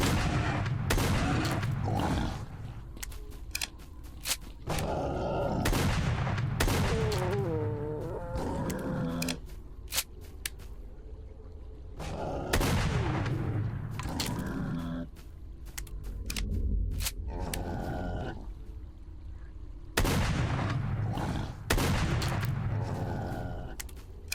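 Gunfire in the S.T.A.L.K.E.R. Lost Alpha video game, with repeated sharp shots in clustered bursts over a steady game soundscape, the loud reports returning at intervals throughout.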